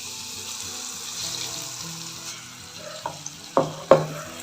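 Kanthar appam batter drops into hot oil with a soft steady sizzle, followed by a few sharp splashes and bursts of frying as pieces go in, close and moderately loud.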